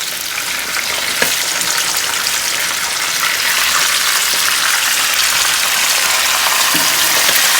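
Fish sizzling and frying steadily in hot oil in a pan after being flipped, a loud continuous crackle with occasional sharper pops, no talking.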